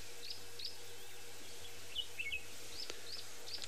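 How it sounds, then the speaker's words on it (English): Faint, scattered bird chirps ring out over a quiet outdoor hush, short high calls repeating every half second or so. "Can I just hear some birds chirping and making noise?"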